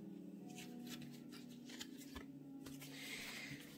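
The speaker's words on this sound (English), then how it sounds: "one more shuffle." Tarot cards being shuffled by hand, heard as soft, quiet riffling and slapping bursts in an irregular rhythm close by, with no talking.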